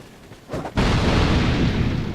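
Explosions rumble in Dark Souls 2: Scholar of the First Sin, with a couple of softer thuds before a heavy, loud blast that keeps roaring and rumbling with debris noise for the rest of the moment.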